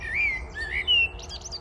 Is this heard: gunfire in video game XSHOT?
no